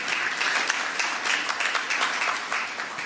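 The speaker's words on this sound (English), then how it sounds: "we'll give them a preemptive clap right now" An audience claps in a steady, dense burst at a celebration welcoming Major League Soccer's 20th team in New York City, the applause filling the space evenly with no voices over it.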